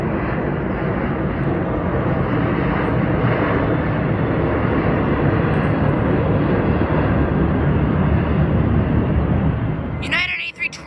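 A Southwest Airlines Boeing 737-700 jet in Heart livery roars loudly and steadily at a San Diego airport, a broad continuous engine rumble filling the whole stretch before dropping off abruptly near the end.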